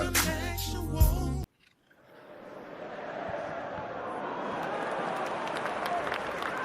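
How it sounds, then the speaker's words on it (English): Broad, steady crowd noise from a sound effect fades in after a brief burst of music and a moment of silence, then holds as a continuous wash of distant cheering and murmur. "I tried the crowd noise."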